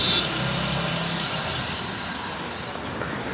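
A car engine idles with a steady low rumble, close and constant, while a mechanic checks a check engine light fault with the air intake hose removed, and someone talks.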